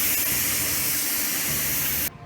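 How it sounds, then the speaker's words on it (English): Spray gun laying primer over the low spots of a car hood during bodywork, a continuous close hiss of atomized paint that cuts off abruptly near the end. "Now we're just going to spray the rest over the freaking low places."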